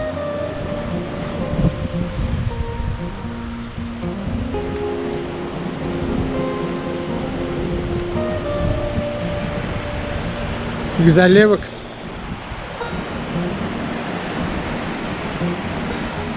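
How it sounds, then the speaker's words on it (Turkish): Black Sea waves wash into a small rocky natural bay, a steady hissing surge in the background while someone talks briefly over it. "Böyle içeri gidiyor deniz."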